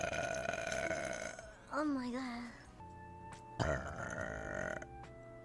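A woman lets out one long, drawn-out burp with a wobbling pitch, surrounded by her own excited talking and reactions.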